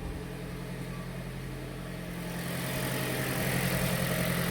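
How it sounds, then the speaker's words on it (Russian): A Toyota Voxy engine idles steadily while warming up, a close, even mechanical hum that grows slightly louder and brighter partway through, with no one speaking. "Так вот, двигатель у нас работает."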